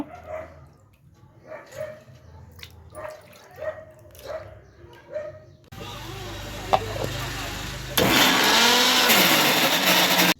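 A kitchen mixer grinds soaked urad dal into batter for festival vadas, starting as a steady whir and jumping to a louder, harsher grinding roar partway, after a stretch of voices and dog-like barks.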